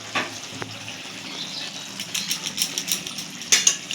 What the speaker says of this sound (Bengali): এবার আমরা মাছটাকে ঢেলে নেব।